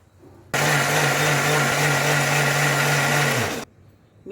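An electric mixer grinder whirs loudly and steadily for about three seconds while grinding soaked rice into a flour batter, starting abruptly and cutting off, with quiet before and after.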